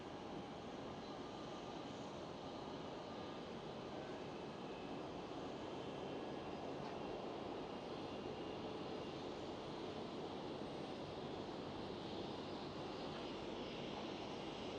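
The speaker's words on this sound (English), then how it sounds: "Air Baltic A220." An Air Baltic Airbus A220 airliner rumbles steadily at Schiphol airport, Amsterdam, a constant distant jet engine roar holding even for the full stretch with no talk over it.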